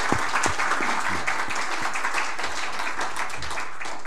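At an ordination thanksgiving service marking a church's seventh founding anniversary, the congregation gives a round of applause: a few sharp claps up front, then even, moderately loud clapping that holds steady to the end.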